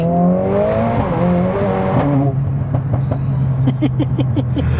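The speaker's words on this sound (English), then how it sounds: "Listen to the shifts." A tuned 500+ bhp Mercedes-AMG A45 S development car accelerating hard, its rising engine note broken by quick gear shifts, followed by a run of sharp pops and crackles over a steady low drone, loud and close.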